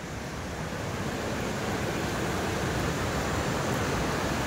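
Steady broadband rush of river water pouring over big rocks beneath a bridge near Jamuney, Darjeeling, continuous and fairly loud throughout with no voices.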